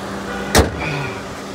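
An all-new Honda City hybrid car being switched off: a single sharp thud or click from the car, followed by a soft fading hum of the system winding down, close by with no talking.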